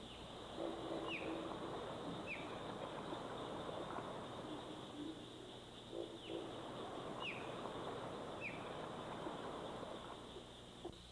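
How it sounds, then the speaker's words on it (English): An osprey gives a series of short, sharp repeated chirps, fairly distant and faint, over a steady hiss of swamp ambience in the Okefenokee. "The most common sounds heard when an osprey is around are a repeated chirp or a longer call."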